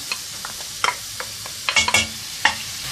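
An onion frying in hot oil gives a steady low sizzle, broken by scraping stirs and a few clattering knocks of a utensil against the pan.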